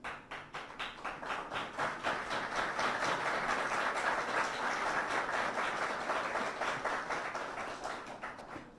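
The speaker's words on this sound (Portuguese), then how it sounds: "Obrigado pelas palmas" Audience applause at a political talk, beginning as separate claps that swell into a dense, sustained round before thinning out toward the end.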